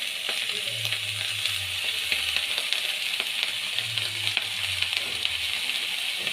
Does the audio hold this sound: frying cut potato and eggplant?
yes